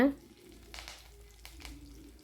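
Mustard seeds, urad dal and curry leaves sizzle in sesame oil, a soft crackling fry with a few brief popping bursts, quiet and close.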